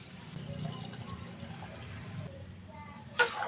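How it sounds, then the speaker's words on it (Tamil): Water poured into a cooking pot of masala for beetroot biryani, a faint, steady liquid pour for a few seconds, ending in a brief clink. "இப்போ இதில் நம்ம தண்ணி வச்சுக்கலாம்."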